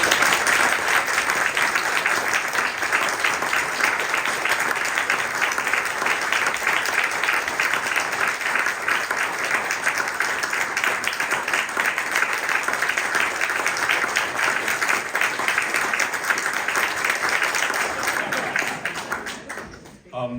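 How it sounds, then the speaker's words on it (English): An audience applauds at an Isle of Man medal ceremony for a British Empire Medal recipient, a dense, steady wash of clapping held for about twenty seconds before trailing off at the end. "I think a round of applause."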